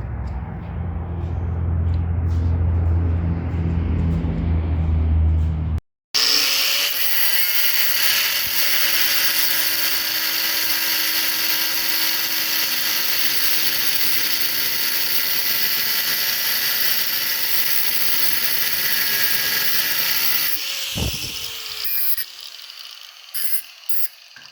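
A power tool saws off a fuel plate clamped in a vise, making a steady loud grinding whine for about fifteen seconds before winding down, after some louder rumbling at the start.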